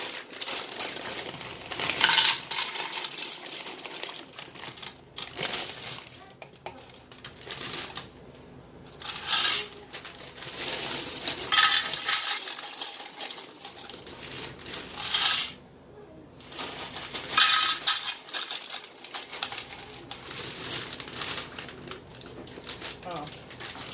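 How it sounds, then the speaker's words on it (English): Dry noodles are poured into a pot of chicken noodle soup with crinkly rustling and rattling scatters, in several bursts separated by short pauses. "I'm going to go ahead and throw in my noodles."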